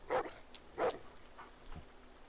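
A dog gives two distinct barks close by, then a fainter third bark and a soft whimper, spaced over a couple of seconds against a quiet background.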